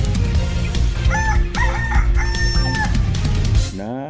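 A rooster crows loudly and close by in a Philippine provincial setting, one long cock-a-doodle-doo with a drawn-out ending, over steady background noise.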